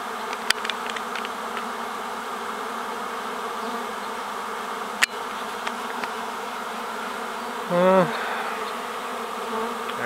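A swarm of honeybees buzzes in a steady, dense drone around a beekeeper at the hive, close and continuous, with a few sharp clicks and a louder pass near the end.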